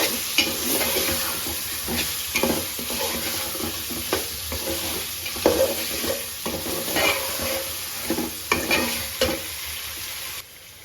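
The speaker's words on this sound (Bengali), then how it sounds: "আলু ভালো করে মশলা কষিয়ে" Potatoes sautéing with spices in a fish-dish pan, a steady sizzle broken by repeated scraping stirs of a spatula, fairly close and continuous for nearly eleven seconds, ending with a brief drop in level.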